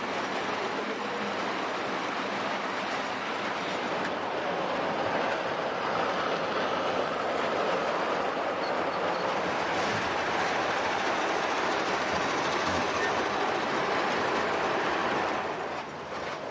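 Met Westinghouse Camelback locomotive hauling a dreadnought train, a steady broadband rumble and rattle of rolling stock that holds constant and close for the whole stretch, with no voices.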